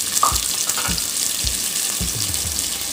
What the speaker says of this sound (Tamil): 2 பெரிய வெங்காயம் வதக்கிக்கணும்